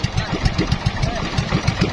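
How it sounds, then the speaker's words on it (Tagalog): A vehicle engine runs at idle close by, giving a steady, rhythmic low throb that pulses evenly throughout, with no talking. "kasi mandar na po yung makina"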